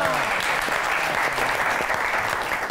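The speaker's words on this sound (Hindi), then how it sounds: "तालियां।" Steady applause from a television talk-show studio audience, a continuous dense patter of many people clapping throughout with no voices over it.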